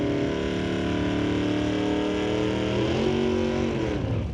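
A 2007 dragster and a 1934 Shawnigan Trucking roadster revving at a drag race, loud layered engine drones holding steady and then rising and shifting in pitch together, close and sustained.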